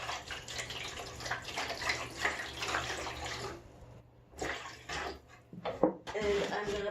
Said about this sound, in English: I'm just going to add some water here